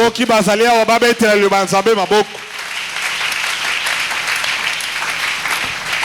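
A church congregation breaks into loud, sustained applause and cheering that fills the room, rising straight after a preacher's raised, sung-out speaking voice.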